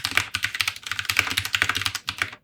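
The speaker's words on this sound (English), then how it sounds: "this Royal Kludge RK84 is one of the best keyboards to mod" Rapid, steady typing on a modded Royal Kludge RK84 mechanical keyboard, a dense run of crisp, close keystrokes with no pauses and no voices.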